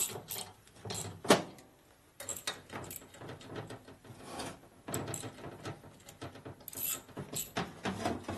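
A ratchet turns a half-inch socket on a 1950 Harley panhead engine, giving bursts of close metallic clicking and clattering separated by brief pauses.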